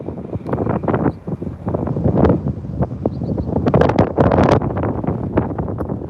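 Gusty wind at an airport buffets the microphone in loud, uneven rumbling bursts that rise and fall throughout, with no talk.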